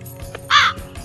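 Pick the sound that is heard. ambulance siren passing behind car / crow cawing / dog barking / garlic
crow cawing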